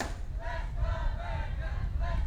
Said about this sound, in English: The Let's Go Bearcat chants picking up from the crowd in the David Toes stand